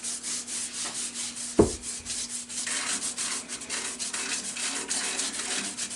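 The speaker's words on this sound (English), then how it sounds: "So I'll clean this with alcohol first, and that will remove any of the grime that's in that grain still." Textured wood grain being rubbed clean with alcohol, brisk repeated scrubbing strokes in a steady rhythm, close and fairly quiet, with one sharp knock partway through and no talking.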